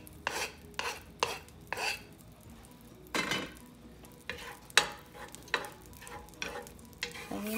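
Esquites being stirred in a frying pan after epazote goes in, a spoon knocking and scraping against the pan in a steady series of sharp clinks over a low sizzle, close and alone.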